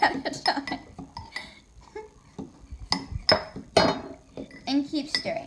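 Hot cream mixture is whisked into egg yolks in a bowl: quick metallic clinks and scrapes of the whisk against the dish, close and irregular, with some talk.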